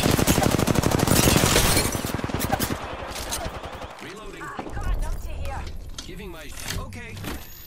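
Bursts of rapid automatic gunfire in a battle-royale shooter game, loud and dense for the first few seconds, then thinning into scattered shots and clatter with a voice talking over it.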